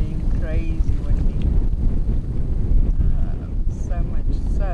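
Strong wind in Antigua roars steadily across the microphone, a broad rushing noise that persists throughout with a voice talking over it.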